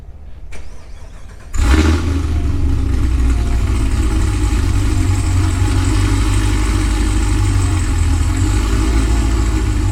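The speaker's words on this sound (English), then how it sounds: "I'm going to back the car up a little bit on the trailer" A Camaro's engine fires up as the car is backed onto a trailer, then runs loud and steady with a deep rumble that holds to the end.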